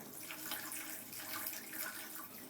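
A faucet runs in a steady, close hiss of flowing water while Chester the cat drinks from the stream, the pour continuing unbroken with no voices.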